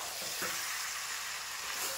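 Potato curry (aloo dum) with slit green chillies sizzling steadily in a pan, a dense continuous hiss of frying with faint stirring, close and alone.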